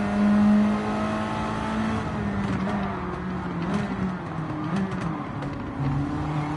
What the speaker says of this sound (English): Let's take the car for a spin outside.